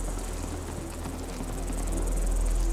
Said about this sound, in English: That's mosquitoes from hell